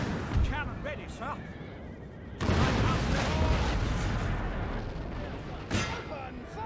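Cannons fire canister shot on a Napoleon: Total War battlefield, a booming volley with a sustained crackling roar and horse whinnies, heard under a voice talking.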